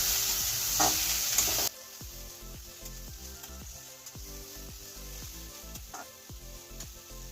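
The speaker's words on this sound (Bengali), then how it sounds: "সবজিটাকে আমরা পুরো ভাজবো না হালকা ভাজবো" Vegetables with onion sizzle gently in a pan as they are lightly fried for an egg roll filling. A loud hiss at the start settles into softer frying under repeated scraping and stirring taps.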